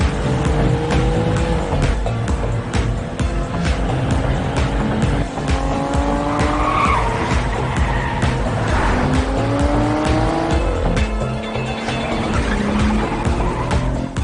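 A car speeds along with a loud, continuous engine roar, repeated rising revs and bursts of tire squeal. It stays close throughout with no talk over it.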